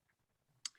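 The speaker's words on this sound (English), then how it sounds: "Charles, go ahead and click on continue" One quick, faint computer mouse click sounds near the end of an otherwise quiet moment.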